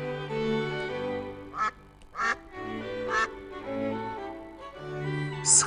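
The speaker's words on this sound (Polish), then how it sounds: "To kaczka." A duck quacks in several separate loud calls, close by, over a continuous musical backing with no one speaking.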